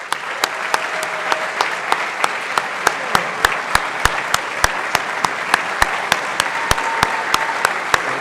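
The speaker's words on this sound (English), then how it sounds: "so you can give them a proper round of applause" An audience gives a sustained round of applause for honored teachers, with sharp individual claps standing out over a dense, steady wash of clapping that carries on without any voices.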